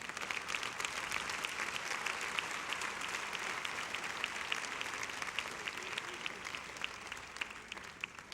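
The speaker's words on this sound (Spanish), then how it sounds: "Si lo cree, dele un fuerte aplauso al Señor." A church congregation applauds with sustained, even clapping that runs unbroken for several seconds. It sounds somewhat distant and moderately soft.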